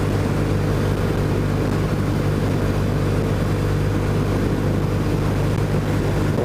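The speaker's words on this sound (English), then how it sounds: "Today we're riding the 2008 Triumph Bonneville." A 2008 Triumph Bonneville motorcycle under way produces a steady, loud low engine drone with constant rumble and wind rush, unbroken throughout.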